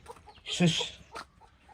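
A hen clucks on a farm in a few short, close bursts, one louder squawk in the middle, with quieter clucks around it and no talking.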